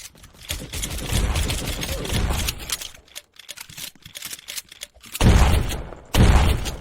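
Gunfire in a Roblox prison game, rapid bursts and scattered shots of varying loudness, with heavier booming blasts near the end and no talk.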